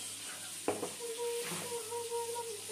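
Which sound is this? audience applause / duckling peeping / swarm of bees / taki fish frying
taki fish frying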